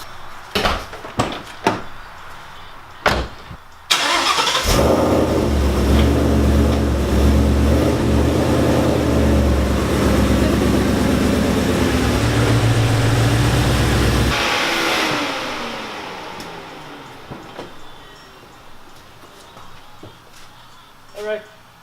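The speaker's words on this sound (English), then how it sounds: "I'm just gonna back the car out real quick" A car engine runs steadily for about ten seconds while the car is backed out, loud and close, with door and handling clatter before it and quieter shuffling afterward.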